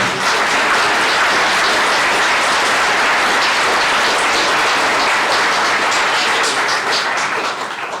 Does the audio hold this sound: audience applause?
yes